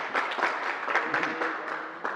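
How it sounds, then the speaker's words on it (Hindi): Applause from a religious discourse audience at an ashram, a steady wash of clapping with a few stronger bursts, lasting about two seconds and moderately loud. "ताली बजाओ"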